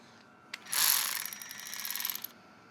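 A ratchet wrench loosens bolts on a Harley-Davidson motorcycle's number plate mount, giving a burst of fast ratcheting clicks followed by a steadier run of close, moderately loud clicking.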